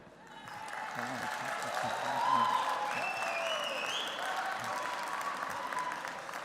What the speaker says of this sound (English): then maybe I get an applause